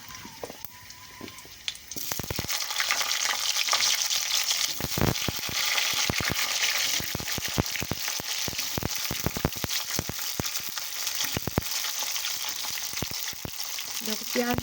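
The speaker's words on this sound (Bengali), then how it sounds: "দেখো পেঁয়াজটা আমি এখন 2 মিনিটের মতো ভাজে নেব।" Large chopped onions dropped into hot oil with bay leaf, cloves and black pepper for palak paneer, a loud sizzle bursting up and then holding steady with crackling and stirring scrapes, no voices.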